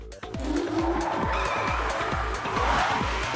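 A front-wheel-drive passenger company car strains under load, its tires skidding in a steady, juddering squeal over a rough engine drone, loud and continuous for several seconds.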